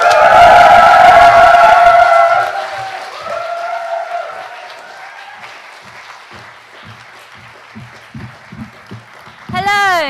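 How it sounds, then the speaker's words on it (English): Poetry-night audience claps and whoops loudly and close for the poets, with the cheering fading after a couple of seconds into scattered claps. "Let's hear a massive round of applause and extensive whooping for all of our poets this evening."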